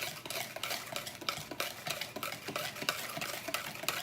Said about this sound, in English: So I want to whisk those in.